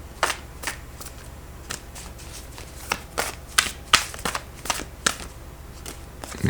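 A deck of tarot cards is shuffled up close, with about a dozen quick papery riffles and snaps in an uneven rhythm.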